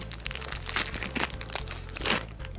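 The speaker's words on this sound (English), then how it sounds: "if you push it from the bottom and kind of unwrap it from the top, it becomes a little bit easier to push out of this bag" Clay being pushed out of a plastic bag, close crinkling and crumpling of the plastic in several short rustling bursts, with no talking.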